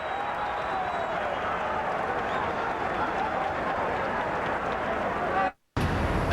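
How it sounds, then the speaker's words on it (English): A boxing-match crowd during a Robinson fight applauds and cheers in a dense, steady wash of noise at moderate distance, which cuts off abruptly just before the end. "And the crowd loves it."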